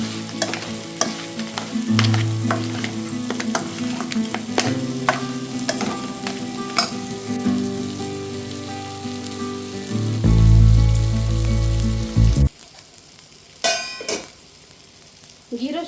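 Masala for a crab ghee roast frying in a steel pan: loud, close sizzling with repeated scraping and clattering of a spatula against the metal, a heavy hiss swelling near the end before dropping away.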